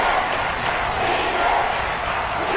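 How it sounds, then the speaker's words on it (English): Football stadium crowd roaring steadily as a third down approaches, a dense, loud wash of cheering and shouting with no break across the stretch. "Crowd getting in it a bit already."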